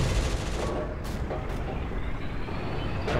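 Tank cannon fire from a T-50 in the Steel Fury tank simulator game: a few sharp, loud blasts with hissing bursts, heard over a constant heavy engine rumble and battle noise.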